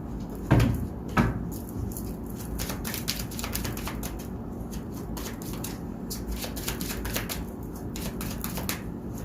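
Tarot cards being shuffled by hand, a dense run of quick papery riffles and flicks with a couple of sharper knocks early on, close and fairly quiet.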